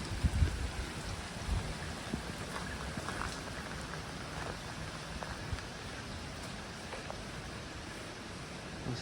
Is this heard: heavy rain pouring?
yes